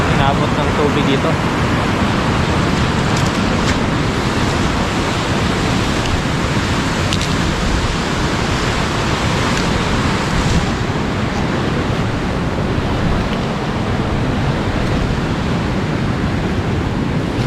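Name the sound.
typhoon storm wind and water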